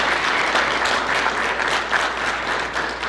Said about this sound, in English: So if we can clap it up for those guys.